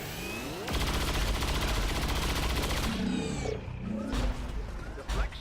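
A dense burst of rifle fire in the video game XCOM 2 rattles loudly for about two seconds, followed by a sliding whoosh and scattered impact and debris noises.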